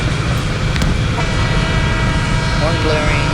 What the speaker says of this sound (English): Horn blaring, I guess.